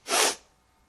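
A storyteller performs a single breathy, hissing sneeze, close and loud, fading quickly into quiet during a children's bedtime story.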